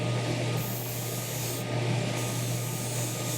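A bench grinder steadily grinds excess silver off a handmade ring, a continuous close rasping whir with a low motor hum underneath, unbroken throughout.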